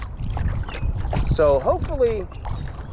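Water sloshing and paddle strokes on open water, with wind buffeting the microphone, someone speaking briefly and bird calls chirping nearby.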